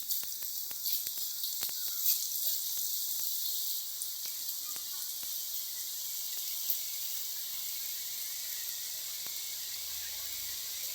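Ribbon pakodi dough fries in hot oil. A steady, bright sizzle with crackling pops keeps going throughout, close and even, with no talking.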